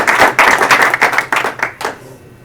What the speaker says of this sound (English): I'd like to applaud your team as well right now.